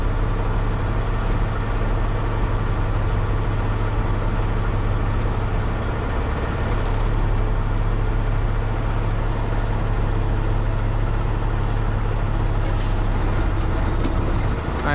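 An automatic-transmission truck hauling a trailer reverses slowly, its diesel engine humming steadily and loudly with a deep low drone and occasional faint hisses, continuous throughout with no talking.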